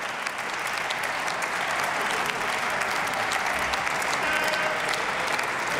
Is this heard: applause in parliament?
yes